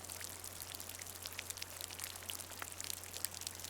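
Light rain falls in a steady soft patter, scattered droplets ticking faintly over a low continuous hum, with no voices.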